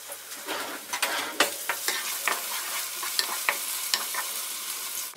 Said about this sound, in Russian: Обжарим грибы и бросим их в кастрюлю.